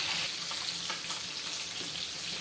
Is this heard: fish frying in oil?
yes